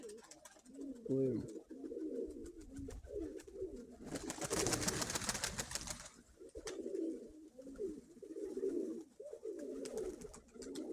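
Pigeons in a loft coo repeatedly in soft, rolling bursts close by, with a brief stretch of broadband rustling or flapping in the middle and faint speech at times.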